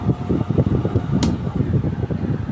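A TCL window-type air conditioner runs on its cool setting, giving a steady, loud fan and airflow whoosh with a low rumble, continuous throughout, with one brief sharp click partway through.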